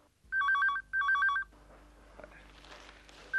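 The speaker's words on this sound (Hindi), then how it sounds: "लगता है क्लाइंट्स की लाइन फोन पर लगनी शुरू हो गई।" Telephone ringing in an office with two bursts of bright electronic trilling, then a quiet room hum.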